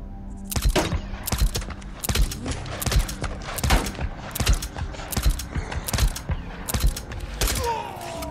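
Rapid bursts of automatic gunfire against militia in the video game Days Gone, repeated volleys about every second with sharp loud cracks and a mechanical rattle, no talking.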